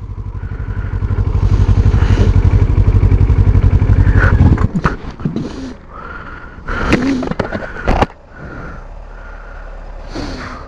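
Motorcycle engine idling loudly and close with a steady throb while stopped in traffic at a red light, then cutting out, followed by scattered clatter and short bursts of nearby traffic noise.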